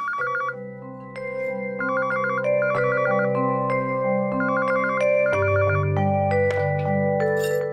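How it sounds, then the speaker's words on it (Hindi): A phone ringtone plays a repeating electronic melody with chiming tones, loud and close, continuing without pause. "सुजाता दी, आपका फोन है।"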